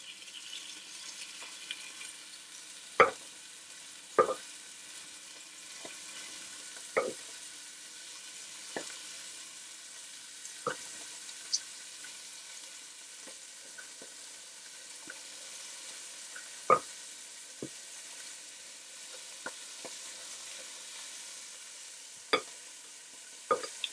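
Beef pieces browning in a pan in batches for beef bourguignon, a faint steady sizzle broken by sharp scattered clinks and taps of tongs against the pan, with no talking.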